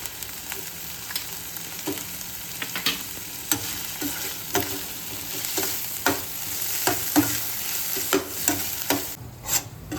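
Capsicum stir-fried in a pan for spicy butter pav bhaji, with a spatula scraping and stirring in steady repeated strokes over a constant close, busy sizzle.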